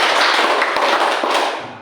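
Schoolchildren clapping in unison during a counted classroom clapping game: a quick series of loud, crisp group claps, slightly ragged in timing, echoing in the room before fading.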